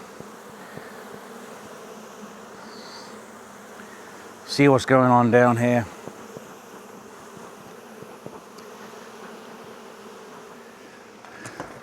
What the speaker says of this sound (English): All right, look at all these bees.